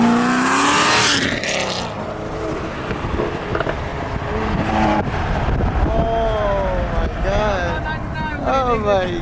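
A Corvette Z06 engine revs hard in repeated rising and falling bursts, loud and close amid traffic, with people talking over it.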